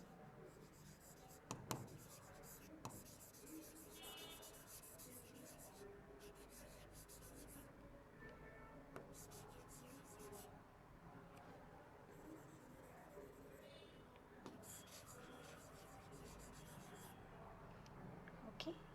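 Chalk or marker scratching across a board as a biology term is written out in a classroom, faint scraping strokes in bursts under a quiet room tone, with some soft speech.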